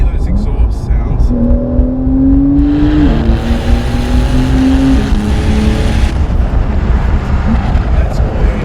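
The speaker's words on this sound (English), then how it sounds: "Let's hear those exhaust sounds." A Porsche 992 911 Carrera 4S accelerates hard, its engine note climbing steadily, then dropping briefly at a gear shift before rising again under a constant loud road roar.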